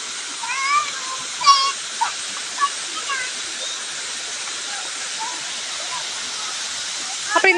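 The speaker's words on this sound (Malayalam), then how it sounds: "എൻ്റെ പിള്ളേരെല്ലാം വെള്ളത്തിൽ കളിക്കുവാണ്" A constant hiss of rushing water with faint children's voices and a few small splashes in the first seconds, then mostly steady water noise.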